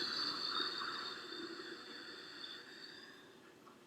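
Ujjayi yoga breath drawn in through a slightly constricted throat, making a steady whispering hiss for about four seconds that fades gently toward the end, close and fairly quiet, with no talking.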